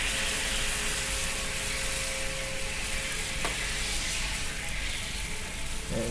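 Spam meat sizzling in a pan as a sauce is started, giving a loud, continuous, close crackle with a brief scrape partway through and no voices.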